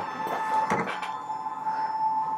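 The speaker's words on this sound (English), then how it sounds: "it's gonna automatically calibrate the machine and the embroidery unit for me" A Brother Stellaire XJ2 sewing and embroidery machine runs its automatic calibration, with a few quick mechanical clicks and whirs over a steady electronic hum, close and fairly quiet.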